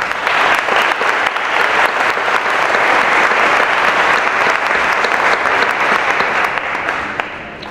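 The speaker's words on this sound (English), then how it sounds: "So if we could just give them a round of applause." A high school academic awards audience gives a sustained round of applause, loud and steady throughout before easing off slightly at the end.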